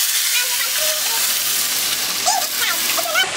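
Omena, small fish, deep frying in a lot of hot oil in a pan, a steady close sizzle and bubbling hiss that runs throughout with slight swells.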